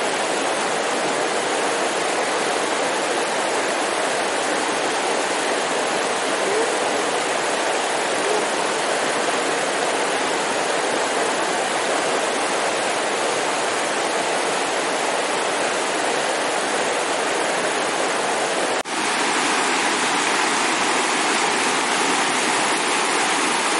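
Water rushes continuously at a stream crossing on a hiking trail in the San Gabriel Mountains near Los Angeles, a loud, close, unbroken roar with no speech.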